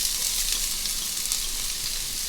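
Chopped onions frying in hot avocado oil in a pan on high heat, a steady, even sizzle that hisses continuously and close up without any talking.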